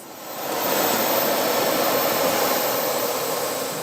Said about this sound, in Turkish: Ankara'dan havalandık.